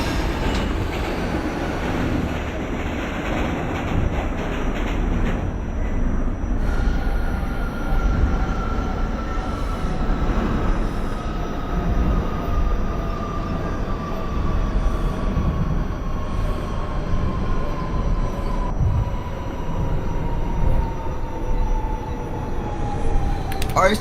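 R46 subway train in the OpenBVE simulator running along the Q line toward Coney Island, with steady wheel rumble and rail noise, rising motor whines and faint clicks, continuous and fairly loud.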